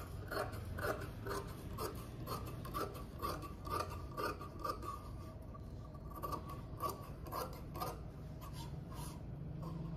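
Scissors snip through the fabric of an old saree in a series of close, crisp cuts with short pauses between them. Quiet room noise sits underneath, and no one speaks.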